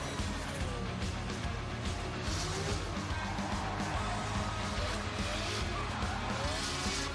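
A powerful Nissan Skyline R32 race car drifts at a motorsport event, its engine roaring hard under sustained, loud tire squeal and skidding, with the commentator talking over the din.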